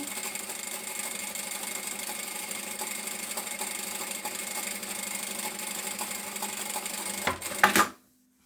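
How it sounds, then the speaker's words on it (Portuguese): A sewing machine runs steadily along the edge of a shoulder bag's lining, a fast even whirring stitch close by for about seven seconds before slowing with a few clunks and stopping. "vou costurar aqui à beirinha do meu forro"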